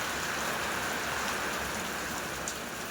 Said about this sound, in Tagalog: Halos 1 week na ang ulan.